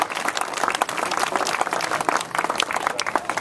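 A crowd at the opening ceremony of the Airport TRAX train line applauds with brisk, dense clapping, steady and fairly close for a few seconds.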